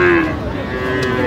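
A Sahiwal bull calf at a Pabna cattle market gives one loud, close, drawn-out moo.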